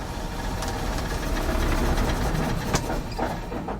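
Boosted six-cylinder car engine starting and running, a rough, rumbling idle with uneven knocking pulses and a few sharp clicks, fairly close and without talk.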